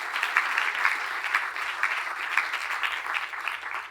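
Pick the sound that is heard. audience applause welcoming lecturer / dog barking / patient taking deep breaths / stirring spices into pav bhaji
audience applause welcoming lecturer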